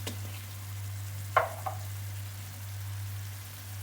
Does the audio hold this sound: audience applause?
no